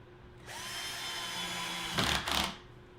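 A power drill drives 1 1/4-inch pocket screws into plywood while building a bulk chicken feeder, a steady close whine for about two seconds, then two louder bursts as the screw bites and seats.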